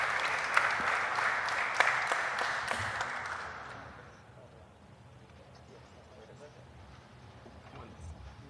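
A small audience at an end-of-year music business panel applauds a panelist arriving, steady clapping for about four seconds that fades into a quiet room.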